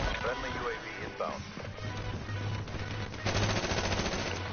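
Automatic gunfire in the Call of Duty: Black Ops 3 video game, a dense rapid burst near the end, with someone talking and reacting over the game sounds.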